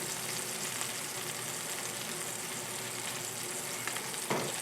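Duck breast fries over medium heat in a metal pan, giving a steady, dense sizzle that holds even throughout, close up, with a faint clink near the end.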